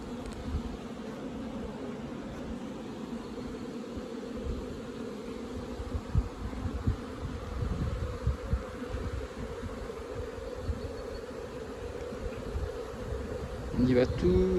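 Honey bees from a strong, healthy colony drone steadily at an open beehive, a dense continuous buzz close by with a brief louder swell near the end.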